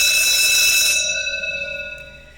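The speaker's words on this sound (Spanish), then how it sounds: "la alarma empieza a sonar" A homemade alarm built around a BJT transistor and relay rings as a loud, steady electronic tone with bright buzzing overtones that thins out after a second and slowly fades, with no voices.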